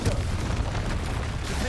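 A Confringo explosive spell in Hogwarts Legacy bursts in a loud, close, rumbling boom that fills the whole moment with dense low-end blast noise.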